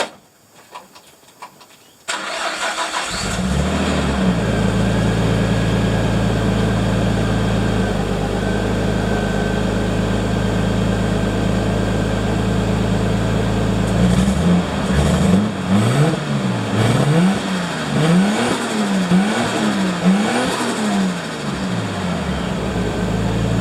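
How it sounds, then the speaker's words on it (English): Nissan R33 Skyline exhaust through a single-tip 3-inch muffler: the engine starts, settles into a loud steady idle, then revs up and down in repeated blips, recorded close with no talk. "that's how it sounds with the single tip 3-inch muffler"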